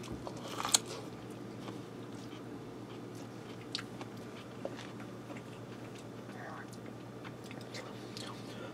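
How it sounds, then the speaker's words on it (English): Someone bites into and chews Cajun-seasoned buttered corn on the cob with lime juice and garlic salt, faint, close crunching and chewing spread across several seconds over a quiet background. "Let me get in here and try this corn"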